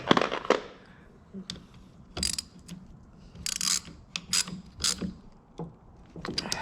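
Metal bolts being run in with an Allen wrench during a parking brake rebuild on a Cat 735 articulated truck: a string of short, sharp ratcheting clicks and scrapes in uneven bursts, close by and moderately loud with no talk.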